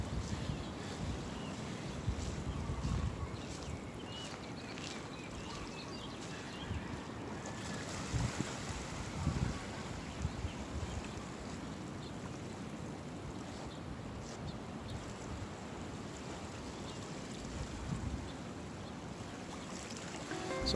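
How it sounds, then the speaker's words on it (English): Small Anini Creek flowing out onto Anini Beach on Kauai makes a steady, broad rush of water, blended with surf and gusts of wind buffeting the microphone throughout. "Here's a little stream, that stream that I showed you up in the hill where the waterfall was."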